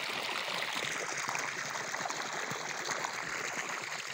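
Irrigation water flows steadily into a newly planted adsali sugarcane field of variety 86-032 at night, a continuous rushing, trickling stream close by with no talk.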